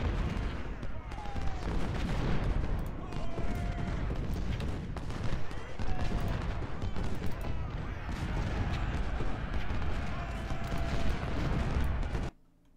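Artillery fire in the Ultimate General: Civil War game during the Fredericksburg battle, a steady barrage of booming cannon shots and distant thuds layered over dense battle noise, fairly quiet overall.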